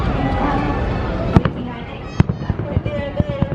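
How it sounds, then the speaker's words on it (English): Epcot fireworks bursting far off, a series of distant thumps and pops that become more frequent, heard under the murmur of people outdoors. "See the Epcot fireworks over there."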